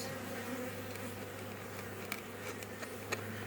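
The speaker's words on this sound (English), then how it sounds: "And we'll let all the bees come in, basically just one side of the hive where the slot ends" Honey bees hum steadily at a hive entrance, a dense continuous buzz up close with a few brief louder passes of individual bees.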